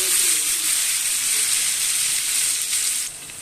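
Batter-dipped pumpkin leaf chops fry in hot oil with a loud, steady bubbling sizzle, close up and continuous, easing slightly near the end.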